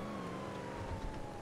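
Police car siren in the video game GTA 5, a steady wailing tone sitting under rumbling engine and road noise, moderately loud and continuous.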